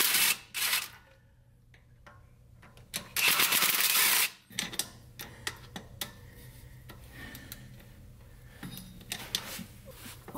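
Sharp ratcheting bursts and small metallic clicks come from removing the 8mm bolts on the reverse servo of a Ford Explorer 5R55W transmission. The sounds are close and intermittent, with two loud buzzing runs among scattered taps and clinks.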